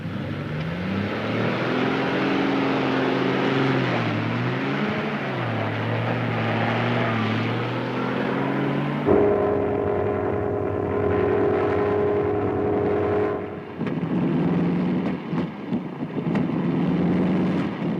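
An aircraft engine drones loudly and steadily, its pitch wavering and then shifting abruptly as the running turns rough and uneven, sputtering as if from a plugged fuel line.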